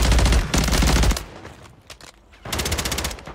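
Rapid automatic gunfire in Call of Duty: Warzone, two loud close bursts of fast repeating shots separated by a quieter gap of scattered, more distant shots.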